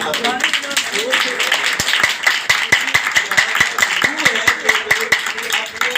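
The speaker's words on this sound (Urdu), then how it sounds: "تالیاں" Rhythmic clapping from a congregation during a church service, steady and evenly spaced, sounding together with voices throughout.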